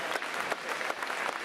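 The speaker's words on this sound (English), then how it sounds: "Let's have another round of applause for these incredible singers and dancers." A brief burst of audience clapping at an elementary school's Grandparents Day program for young singers and dancers, a full, continuous patter of many hands.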